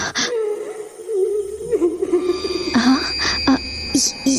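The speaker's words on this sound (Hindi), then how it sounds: "ये तो किसी के रोने की आवाज है।" A person cries at night, a wavering, whimpering wail that rises and falls in strained sobs, fairly close and alone, with a few sharp squeaky sounds near the end.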